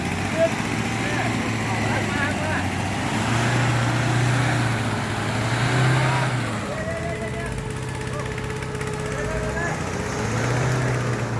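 A tractor engine runs in a rural Thai village, a low steady rumble with drone that swells and eases, heard at moderate distance under people talking.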